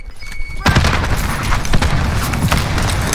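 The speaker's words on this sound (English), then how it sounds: "Grenade out." Grenade blast in a multiplayer shooter game: a sudden heavy boom after a quiet moment, followed by a sustained loud rumble with scattered crackling, like debris or gunfire continuing close by.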